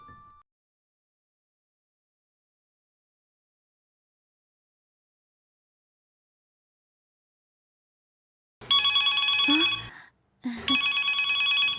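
A telephone bell rings in two loud bursts near the end, separated by a short pause. Silence comes before the rings, apart from a faint sound at the very start.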